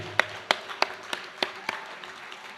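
Sparse, separated claps from a small group at a high school athletic banquet, about six distinct sharp hits spaced roughly evenly over two seconds, moderately quiet with a faint room hum beneath.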